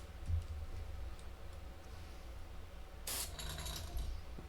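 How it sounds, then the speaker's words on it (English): A short, sharp hiss from a spray paint can bursts out near the end, following quiet clicking and mechanical handling. "we pull our trigger, we leave it come back, and then we spray once"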